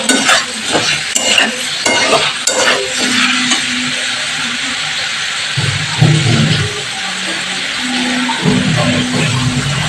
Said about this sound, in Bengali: এবার ভাজা আলুর সাথে মশলাটাকে আমি আরো ভালো করে কষিয়ে দিচ্ছি